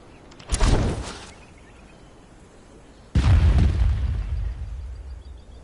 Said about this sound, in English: Are you ready for the fireworks?